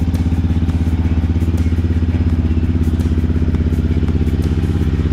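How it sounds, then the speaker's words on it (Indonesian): A new Yamaha WR155R motorcycle with a stock ECU idles close by, its engine running in a steady, loud, even rhythm with a light mechanical clatter throughout. "Suara mesin baru masih halus ya."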